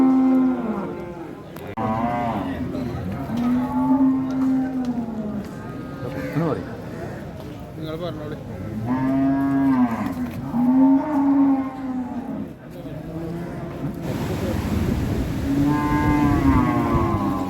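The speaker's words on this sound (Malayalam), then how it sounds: "ഇതൊരു കുള്ളൻ കാള കേട്ടോ." A dwarf bull moos repeatedly at a busy cattle market, several loud drawn-out lowing calls in close succession, with people talking over and between them.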